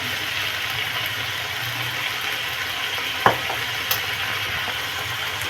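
Vinegar and soy sauce sizzle steadily in a pan of street-style veg fried rice, a constant broadband hiss with a sharp utensil clink near the middle and a fainter tap shortly after.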